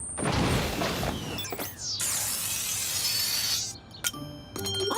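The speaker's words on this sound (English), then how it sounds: "When the Parentals ground you for breaking the window" Cartoon window glass shatters loudly as a laser cutter blasts through it, a bright crash that scatters into a long hissing spray of tinkling shards, followed by a few scattered clinks and small impacts near the end.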